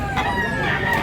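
A rooster at a Cebu market crows loudly and close, one sustained strained call stretching across the whole moment.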